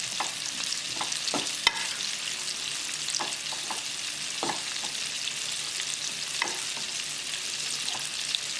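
Pieces of fish being mixed in hot oil for crispy chili fish, with a constant sizzle of frying and scattered scrapes and clinks of a utensil, close and moderately loud.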